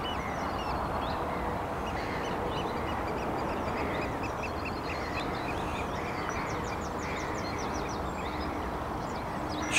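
A dense flock of seagulls at a fishery calls constantly, their overlapping squawks and cries spread near and far over a steady wash of outdoor noise, with no voices.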